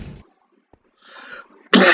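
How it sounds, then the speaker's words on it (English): A person tries to stifle a sneeze, with a faint muffled catch first, then a short sharp burst of sneeze noise at the end, near and loud, in an otherwise quiet room. "I just tried to hold my sneeze and it didn't work."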